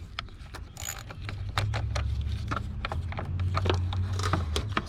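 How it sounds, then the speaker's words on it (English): Metallic clicks and ratcheting taps ring out as a tool loosens the negative battery terminal on a 2003 Honda CR-V with a 2.4L engine, a series of sharp close knocks over low rumbling background. "Let's go ahead and disconnect the negative terminal."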